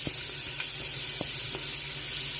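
Chopped onions sizzle in hot oil inside a pressure cooker, a soft, steady frying hiss broken by a few faint stirring clicks.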